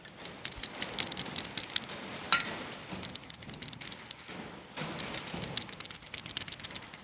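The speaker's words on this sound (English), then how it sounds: "This is the bearing in there that was making all the noise." A noisy, failing bearing from a Case IH combine gives a continuous gritty rattle with scattered clicks and ticks, fairly quiet and steady, with a brief louder clack partway through.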